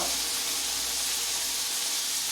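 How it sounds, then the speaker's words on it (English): Marinated chicken and shrimp sizzle on a hot pan, a steady bright hissing crackle, fairly quiet and continuous with no talking. "We can hear that sizzle."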